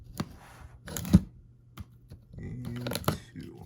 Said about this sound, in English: Let's go ahead and cut this open.